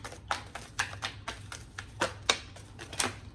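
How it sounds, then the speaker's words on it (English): Quick bursts of tarot cards being riffled and shuffled, about ten crisp ruffles in an uneven rhythm, close and fairly quiet. "2 more shuffles."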